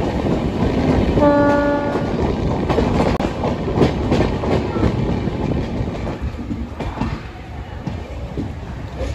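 An express train arrives at Secunderabad Junction railway station, its horn giving a brief clear blast near the start over steady rolling wheel clatter and rumble that continue loudly throughout.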